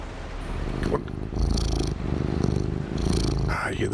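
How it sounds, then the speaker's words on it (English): A cat purrs in a low, rumbling pulse close up, swelling and fading in cycles for several seconds, with some background sound mixed in. "I hear the purrs of Happy Cat Lady"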